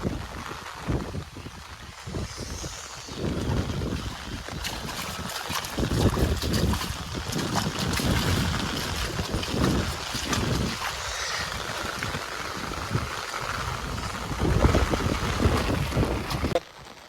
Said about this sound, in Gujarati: જો પવન કેટલો બધો ભારે પવન છે.